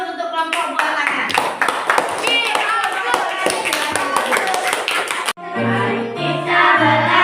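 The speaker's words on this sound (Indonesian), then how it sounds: "kita beri aplaus untuk kelompok buah tangan" Classmates in a school lesson clap for a student group, a dense burst of applause that stops abruptly and gives way to a teacher speaking.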